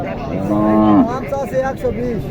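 A cow moos loudly up close at a cattle market, a long low call followed by shorter grunting lows, with faint crowd murmur behind.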